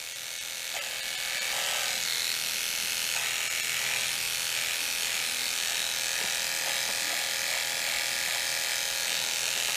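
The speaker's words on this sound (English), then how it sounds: "my razor here is really old and it's very dull" An old, dull electric razor trims hair with a steady, loud, high-pitched buzzing hum that runs close up and without a break the whole time.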